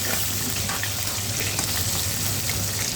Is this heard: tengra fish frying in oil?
yes